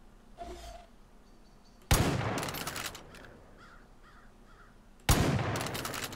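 Two sharp rifle-like gunshots from a hunting scene in the video game Far Cry 5, each with a booming tail, fired a few seconds apart, with a crow cawing faintly before the first shot.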